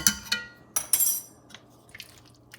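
A spoon stirring tomato paste into lima bean soup in a pot, with a few sharp metallic clinks and scrapes against the pot's side, spaced irregularly in otherwise quiet surroundings.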